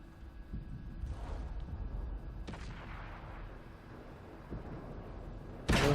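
An Achilles tank destroyer's main gun fires in a video game on a coastal map, with a couple of sharp booms over steady engine rumble and a loud blast right at the end.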